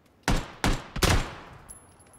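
Three loud gunshots in PUBG (PlayerUnknown's Battlegrounds), fired in an uneven rhythm with the last two close together, each trailing off into a short echo in a quiet outdoor setting.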